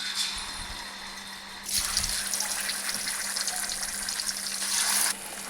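Fish pieces for a tamarind fish curry drop into hot oil, and a quiet background hiss jumps to a loud, steady frying sizzle that runs for about three seconds before easing back.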